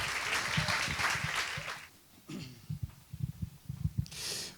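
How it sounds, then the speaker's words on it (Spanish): A burst of audience applause that fades out within a couple of seconds, followed by close breathing and shuffling sounds, with a brief swell of noise at the end. "Un fuerte aplauso a don Miguel Ángel Cerezo."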